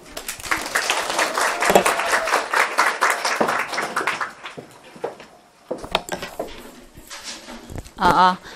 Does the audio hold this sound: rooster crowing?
no